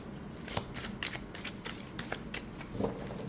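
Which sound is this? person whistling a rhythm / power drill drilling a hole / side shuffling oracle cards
side shuffling oracle cards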